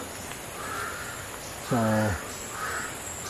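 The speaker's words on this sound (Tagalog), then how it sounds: "Andyan na naman yung uwak mga idol, oh." A crow caws outdoors during a hunting outing in the rain, one harsh, loud call near the middle over steady background noise, with a brief spoken word at the start.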